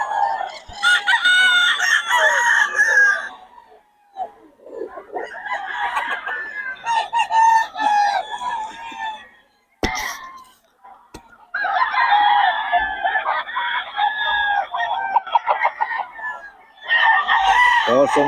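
A Nelson Gray bloodline gamefowl rooster crows loudly and close by, repeating several long, ringing crows separated by short pauses.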